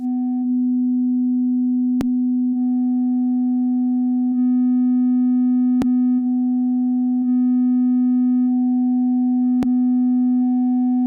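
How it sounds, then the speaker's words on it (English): Steady 250 Hz test tone passed through ATR-102 master tape recorder emulation and largely phase-cancelled against a clean copy, leaving a constant hum of added harmonics with periodic brief clicks; loud and alone. "Let me quickly show you with a 250Hz test tone, which I have phase cancelled for a big part with a clean version."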